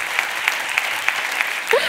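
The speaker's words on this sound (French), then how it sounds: "Donc est-ce qu'on peut applaudir pour ma maman, s'il vous plaît?" Audience applause, a modest crowd clapping steadily with a few sharper accented claps in a regular rhythm, and a brief voice rising near the end.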